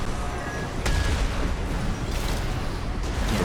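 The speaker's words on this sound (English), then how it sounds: "the Explosion Thrower. It does exactly what it says on the tin. It throws explosions." Explosion Thrower melee weapon in Armored Core 6 sets off a rapid run of loud explosions, continuous booming bursts and crackling blasts filling the whole stretch.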